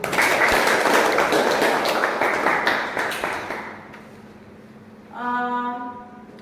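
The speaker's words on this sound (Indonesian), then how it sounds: "kita berikan aplaus untuk kita semua" An audience claps together after a classroom discussion, dense applause that thins into scattered claps and fades out, followed by a brief tonal electronic sound near the end.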